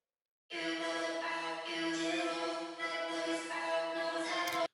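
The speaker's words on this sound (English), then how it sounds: "A long reverb." Sustained synth chords bathed in long, washy reverb, playing continuously at moderate volume with a lingering tail at the end.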